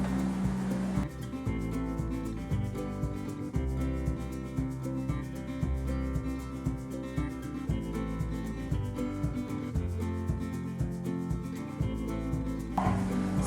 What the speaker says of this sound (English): And here I'm just washing some sand.